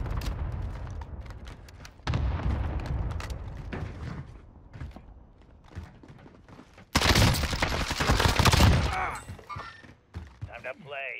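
Gunfire from Call of Duty: Warzone on Rebirth Island, loud bursts of rapid shots and sharp cracks in several clusters, including a dense heavy volley near the end, with someone talking over the action.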